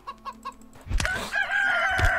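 Chicken creatures in the video game CHKN cluck a few times in quick bursts, then one lets out a loud, drawn-out crowing call that carries on to the end of the clip.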